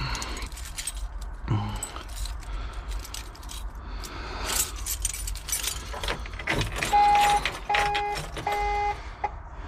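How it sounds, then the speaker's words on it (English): Keys jangling close by in bursts of metallic clinks, with car-like rumble underneath and a few short electronic beeps near the end. "Keys, keys, keys."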